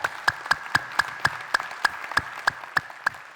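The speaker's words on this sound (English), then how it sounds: "Let's clap for ourselves." Audience clapping at a retail conference session, heard as a steady rhythm of about thirteen sharp, evenly spaced claps, moderately loud, with no talk over them.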